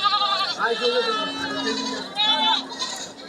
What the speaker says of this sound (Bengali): ছাগলগুলো টেনে নিয়ে যাওয়া হচ্ছে